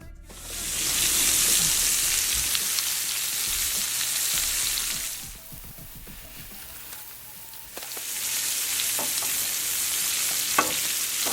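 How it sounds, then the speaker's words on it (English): Scallops sizzle loudly in hot olive oil, the frying hiss fading for a few seconds before returning strong, with occasional small pops. "Let's fry our scallops."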